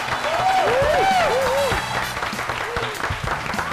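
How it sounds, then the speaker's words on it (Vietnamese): A studio audience on a Vietnamese dating show applauds to welcome a young airline captain, dense clapping mixed with bright cheering voices that continues steadily for a few seconds. "Một tràng pháo tay để cùng chào đón cơ trưởng Quang Đạt"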